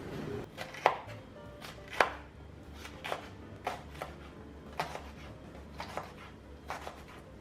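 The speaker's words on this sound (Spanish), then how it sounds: "Yo voy a comenzar con un pimiento verde mediano." A knife chops a medium green pepper on a cutting board, with sharp, fairly close cuts arriving in an uneven steady rhythm and no talking.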